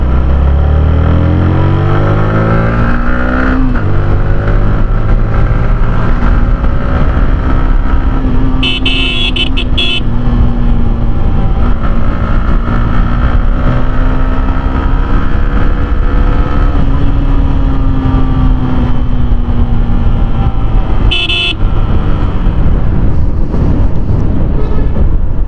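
A Bajaj Pulsar RS 200 BS4 motorcycle engine drones steadily while riding, revving up and shifting with rising and falling pitch, loud and continuous at close range, with a couple of brief horn-like toots.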